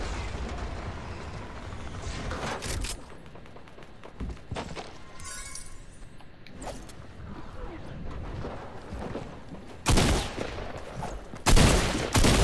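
Rapid bursts of gunfire in a battle-royale video game during the Travis Scott in-game event, crackling loudly in clusters with mechanical clicks and thuds between them, and bursts of voice chat now and then.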